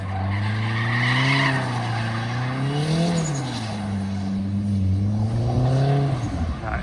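A Nissan Skyline and a Silvia drift at Raleigh Raceway with engines revving and rising and falling as tyres squeal and skid, all at moderate distance.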